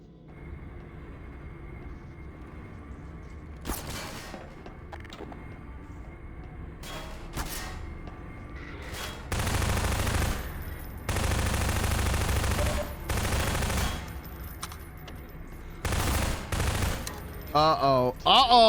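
Bursts of automatic gunfire from Half-Life 2, several loud sustained volleys and scattered single shots with gaps between them, ending in a rapid crackle of shots.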